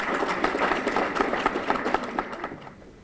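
A round of applause from the audience at a youth session's opening, a few seconds of scattered, uneven clapping that thins out toward the end.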